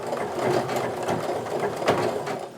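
A sewing machine runs a steady overlock or zigzag stitch along the edge of sweater knit fabric, a close, continuous mechanical whir with rapid needle pulses and no voices.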